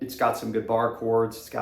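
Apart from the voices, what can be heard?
No distinct noise like a dog, phone or traffic.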